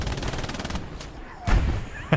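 Machine gun fire in the World War II shooter Hell Let Loose, with a fast rattling burst up front, then scattered heavier shots and a sharp crack near the end, all close and loud.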